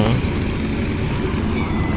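An engine boat crossing the Kushiyara river in Sylhet during the dry season, its motor a steady, loud, close droning rumble that fills the whole stretch without a break.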